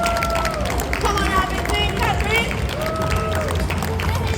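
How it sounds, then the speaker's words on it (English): An audience claps and cheers to welcome the hosts of a live baking demo at a cake, bake and sweets show, a busy crowd sound mixed with nearby chatter and whoops throughout. "Please, round of applause, and they will bounce on out of here."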